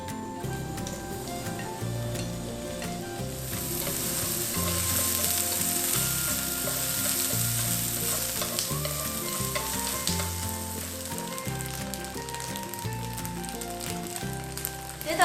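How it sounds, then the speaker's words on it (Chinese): Dried tofu and fresh shiitake mushrooms stir-fry in a wok until golden. A loud, steady sizzle of hot oil runs throughout, close by, with a spatula clanking and scraping against the pan. "豆干煸到金黄之后啊，我们把鲜香菇也放下去煸到金黄"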